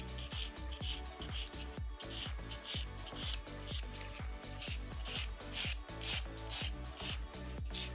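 A nail file works quickly around the cuticle area of a structured gel manicure, making rapid, rhythmic scratchy strokes that are soft and close.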